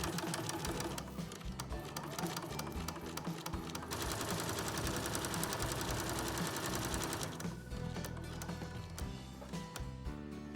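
A sewing machine runs steadily with a rapid mechanical stitching whir, briefly changing pace and pitch partway through, close and continuous.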